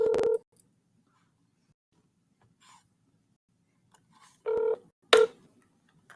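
Telephone line tones from a freight-industry call being forwarded to an automatic voice: a few short electronic beeps, one at the start and a pair near the end, separated by near silence.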